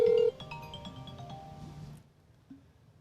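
A phone rings from an outgoing call: a loud steady tone cuts off, then a short chiming melody plays softly for about two seconds before fading to near silence.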